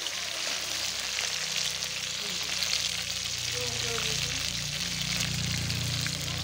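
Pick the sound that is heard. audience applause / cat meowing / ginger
ginger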